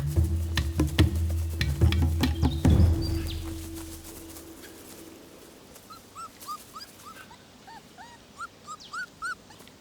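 Dingo pup whimpering while greeting an adult dingo in the Australian wild, a series of thin high rising whines repeated in the second half after earlier louder rustling and thuds.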